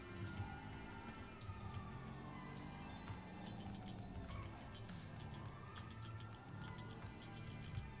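Police car siren in a video game, a wailing tone sweeping up and down at a steady, moderate level over continuous engine and road noise.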